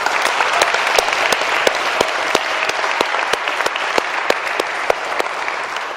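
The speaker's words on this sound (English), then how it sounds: "Can we give all the volunteers and all the organizers a round of applause?" An audience at a talk at Emory University applauds, a steady wash of many hands clapping with sharp individual claps popping out all the way through.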